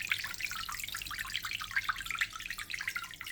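Cheap submerged Amazon aquarium filter by Baitai pumping water, a close, steady bubbling splash and trickle with busy gurgling throughout and no talking.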